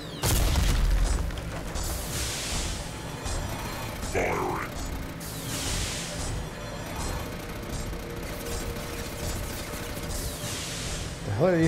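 Explosion in the sci-fi shooter game Mass Effect 2, a broad rumbling boom spread across the clip under steady game noise and scattered weapon sounds.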